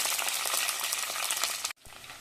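Fenugreek seeds hitting hot oil in a pan for a river fish curry with mango, a loud dense hissing sizzle that cuts off abruptly near the end before a quieter sizzle resumes.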